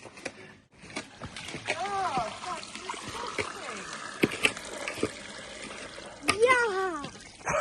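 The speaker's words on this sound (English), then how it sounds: "flush the toilet" A toilet flushes water down a newly fitted drain, with splashing and sloshing running through the whole stretch under near, continuous talk from an adult and a child.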